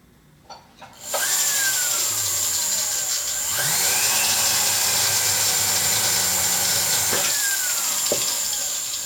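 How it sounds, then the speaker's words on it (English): A handheld power drill boring a hole whirs up loudly close by in three runs, each with a rising motor whine that settles into a steady grinding drone. "put a drill hole here."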